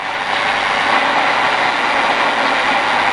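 A car engine on a track drones steadily and loudly close by as the clutch is eased out, revving with a rough mechanical rumble and no pauses.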